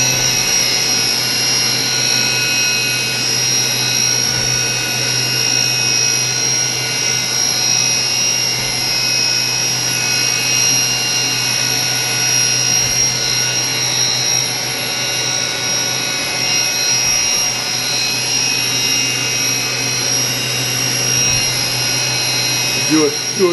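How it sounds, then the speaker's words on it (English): A Fadal 5020AHT CNC machine spindle runs with a loud, steady whine and constant hum that holds unchanged throughout, with voices faintly audible underneath. "I already saw the spindle moving. I turned the spindle on."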